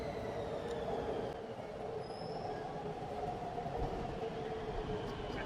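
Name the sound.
metro train arriving at station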